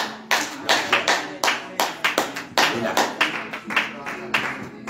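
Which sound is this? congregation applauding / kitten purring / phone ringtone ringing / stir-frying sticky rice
congregation applauding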